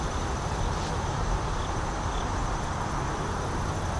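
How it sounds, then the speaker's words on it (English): Distant traffic on Interstate 95 hums as a steady low roar, faint and continuous, heard from a wildlife refuge with no talk over it. "You might be able to hear traffic off in the distance. That's Interstate 95."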